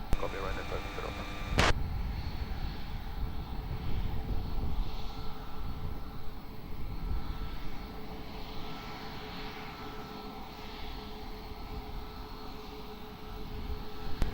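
Aircraft engines rumble and hiss in a broad, sustained drone at Lisbon Airport during a Ryanair departure, opening with a sharp burst before settling into a steady, moderately loud roar.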